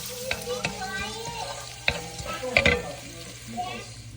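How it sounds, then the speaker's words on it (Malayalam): Jackfruit curry ingredients sauté in a pan over a flame in a Kerala kitchen, with close sizzling and frying under repeated sharp scrapes and clanks of a stirring spoon against the pan. "ഇതെല്ലാം നമുക്കിതിലേക്ക് ഇട്ട് കൊടുക്കാം. ഫ്ലെയിമിൽ വെച്ച് നല്ലപോലെ വഴട്ടാം."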